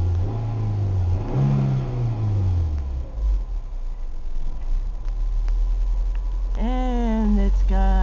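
A Ford, VW or Chevy vehicle revs after a cold start, its engine rising and falling in pitch through a couple of throttle blips over a steady idle rumble, with a sharper rev near the end.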